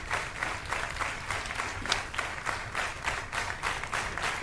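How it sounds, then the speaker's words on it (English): Studio audience applauding at a television talk show, steady rhythmic clapping that pulses in unison, moderately loud and continuous with no talking. "The clap very in sync."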